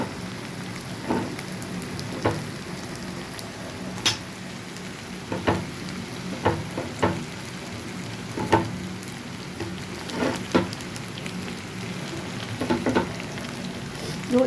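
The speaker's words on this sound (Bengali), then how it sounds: "তো মাছটাকে এখন একটু কষিয়ে নিয়ে আমি দেখাচ্ছি" Boiled katla fish sautés with ginger in a pan, a continuous close sizzle broken by regular taps and scrapes of a spatula stirring the pieces.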